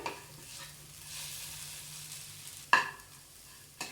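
Moong dal burfi mixture with a spoonful of wheat flour is stirred in a hot pan, giving a soft, steady sizzling scrape with two sharp utensil knocks against the pan near the end, with no talking.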